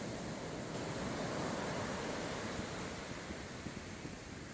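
Rough surf pounds a St. Lucia beach ahead of Tropical Storm Kirk, a dense, continuous roar of breaking waves with wind noise and no voices.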